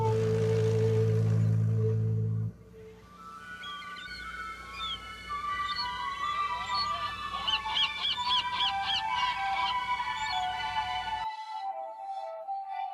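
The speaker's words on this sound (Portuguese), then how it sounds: "Aqui em Verreus há um enorme santuário de aves, onde encontramos milhões de gaivotas, papagaios do mar e outras aves marinhas fazendo ninho nas rochas" A seabird colony of gulls and puffins nesting on rocks at a large bird sanctuary in Norway: loud, overlapping calls fill the middle of the clip after a low, humming start, then cut off abruptly near the end.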